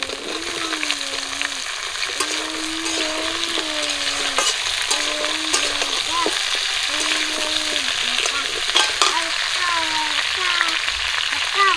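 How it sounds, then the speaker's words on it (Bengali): Cauliflower and potatoes fry in hot oil, sizzling loudly and steadily while a utensil scrapes and knocks against the pan in repeated stirring strokes. "ধুয়ে রাখা ফুলকপি আর আলুগুলো দিয়ে দিচ্ছি।"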